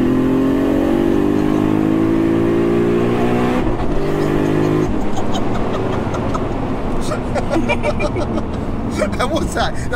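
A fully built 1100bhp 2JZ turbo Lexus sleeper accelerates hard in fourth gear, its engine note climbing steadily and loudly from inside the car, with people talking over the roar throughout.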